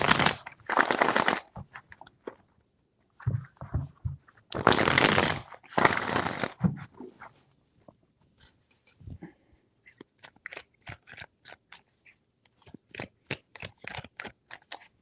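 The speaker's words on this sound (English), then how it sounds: "Three shuffles." Tarot cards are shuffled in two loud riffling bursts, then come lighter scattered taps and flicks of cards being handled, close and without speech.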